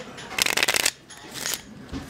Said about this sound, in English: I do the riffle shuffle.